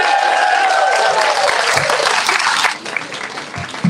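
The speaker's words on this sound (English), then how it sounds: "maybe quickly a round of applause for everyone who's won an award so far" Loud, dense applause for award winners at a 2022 awards ceremony, with many hands clapping close by before thinning out and fading after nearly three seconds.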